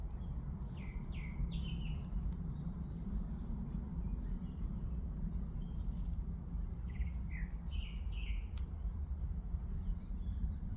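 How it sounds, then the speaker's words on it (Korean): Small birds chirp and trill in short bursts, fairly distant, over a constant low rumble of background noise. "잠시 눈을 감고 새들의 음악 소리에 귀를"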